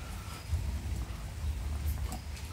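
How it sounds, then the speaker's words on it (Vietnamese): Rain falls steadily outdoors in a rural Vietnamese setting, a soft continuous patter over a low rumbling background, fairly quiet and without talk. "Bữa nay mưa nữa em ơi."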